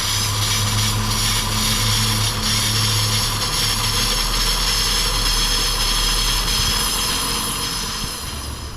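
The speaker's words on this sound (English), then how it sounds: "You can hear the engine idle kicking up" Engine of a 2021 Kia Forte GT Line at 40k miles idling steadily, a loud continuous hum with a low drone and a faint rise in pitch as the idle picks up, with no voices.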